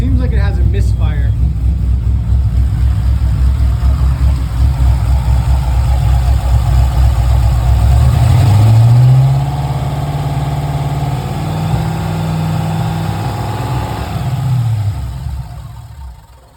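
A misfiring 6.0L engine swapped into a Mazda RX-7 FD idles roughly with an uneven, stumbling low rumble, and a person talks over it.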